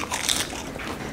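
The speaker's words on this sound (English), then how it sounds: "You can still get a crunch just like you would with a potato chip." Someone bites into a crunchy freeze-dried sweet potato chip seasoned with smoked paprika, making a single close, crisp crunch that trails into soft crackling chewing.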